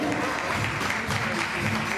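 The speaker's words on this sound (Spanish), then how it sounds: "Aplauso para Alejandra y aplauso para Sam" A stage-show audience claps for two performers, a short, even spell of crowd applause heard at a moderate distance.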